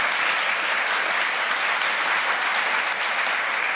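A large audience claps steadily and enthusiastically for a panel at a conference, a dense, even wash of applause that holds throughout.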